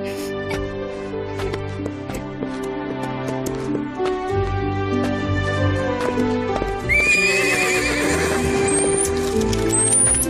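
Horses neigh and whinny over clip-clopping hooves in an animated children's adventure about horse thieves, with several high shrill whinnies near the end above steady hoofbeats and background music, no talk.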